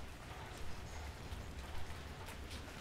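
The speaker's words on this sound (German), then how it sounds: "Jetzt regnet es scheinbar. Zumindest vom Ton her." Steady rainfall in the Minecraft Feed the Beast video game, a soft even hiss of drops with faint crackling, quiet and uninterrupted with no talking.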